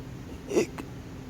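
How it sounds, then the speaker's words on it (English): A single short cartoon hiccup from Goosebumps HorrorTown pops out over quiet background, followed moments later by a faint second click. "Oh no, I eaten so much and I brought in a hiccup attack."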